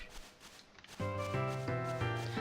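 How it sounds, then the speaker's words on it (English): A short rustling burst from the Pokemon Black and White video game, followed by a loud, steady tonal game melody of sustained notes that change pitch a few times. "That's the sound of the bush wiggling in Pokemon Black and White"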